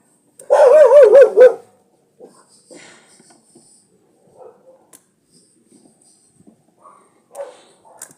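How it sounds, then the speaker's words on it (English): Puppy giving a short burst of wavering, whiny barks close by, about a second long, followed by quiet with faint clinks and movement noises. "There's a grumpy puppy down there."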